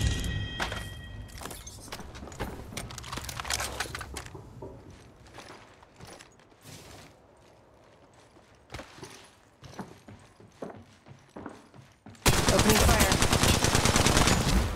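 Automatic weapon fire in Apex Legends Mobile while playing Wraith, with repeated rapid bursts throughout and a louder, denser volley near the end over faint game sounds.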